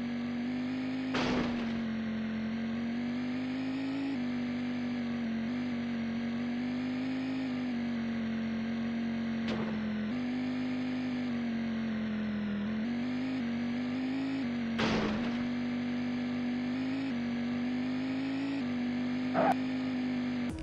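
A car engine in the Test Drive 4 video game drones at a steady pitch, with a few short bumps that could be gear shifts, running constantly at moderate volume with no one talking.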